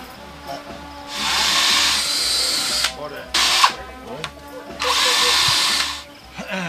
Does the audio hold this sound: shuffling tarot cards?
no